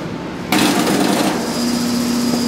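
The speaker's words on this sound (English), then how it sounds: "This is a blacksmith power hammer." A blacksmith's power hammer with freshly reworked dies starts up loud and close, a dense mechanical roar with a steady hum that runs on without pause.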